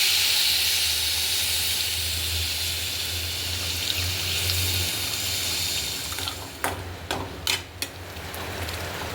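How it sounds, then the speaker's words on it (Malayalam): Tamarind water poured into a hot pan of spices for an Onam puli inji, giving a steady loud hissing rush that eases off, then a few sharp spatters and pops near the end. "ഇനി നമുക്കിതിൻ്റെ മെയിൻ ഇൻഗ്രീഡിയൻ്റായ പുളിവെള്ളം ഒഴിക്കാം."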